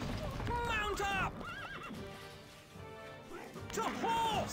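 Horses whinny loudly several times over clattering hooves and crashing noise in the game Stronghold HD, with a voice speaking between the neighs.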